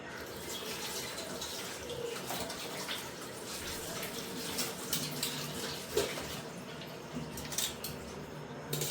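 Steady running water from a kitchen tap splashes as items are rinsed in a sink, with occasional clinks of dishes under the continuous flow; no talk.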